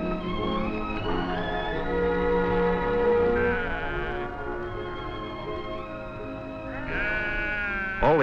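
Sheep on open rangeland bleat in long, wavering calls that overlap and repeat, several animals sounding fairly close with a steady murmur of the flock beneath.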